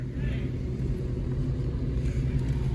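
A Ford Mustang engine rumbles steadily up close at a car show, with a deep, even idle throb throughout and faint higher noise on top.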